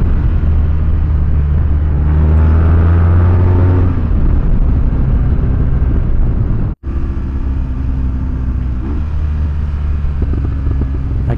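A BMW R1200GS motorcycle engine hums steadily while riding, a loud continuous low drone with wind rush, rising briefly around the middle and cutting out for an instant before resuming.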